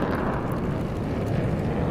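An F-18 jet in a flight simulator game gives off a loud, steady broadband roar that holds without a break.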